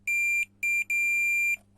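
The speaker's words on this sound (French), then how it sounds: "on a bien le bip." Steady electronic beeps from a continuity tester checking a 9 mm glow plug on an Alfa Romeo MiTo: three clear, loud tones of uneven length with short gaps between them and a low hum underneath.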